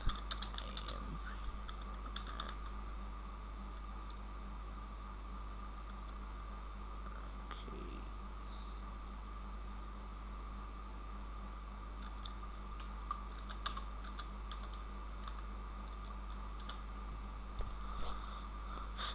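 Typing on a computer keyboard in MS Word: faint, sparse key clicks scattered over a steady low electrical hum.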